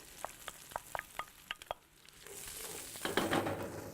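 Diced onions hit hot olive oil in a paella pan: a few distinct taps and clatters first, then a rising, steady sizzle that grows louder and denser toward the end.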